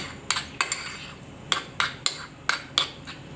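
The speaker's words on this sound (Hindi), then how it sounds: "अब हम इसमें थोड़ा सा लेमन जूस डाल देंगे और इसे मिक्स कर देंगे" A spoon clinks sharply against a bowl while mixing mayo, ketchup and lemon juice into a sauce, about eight crisp taps in an irregular rhythm, close and fairly quiet.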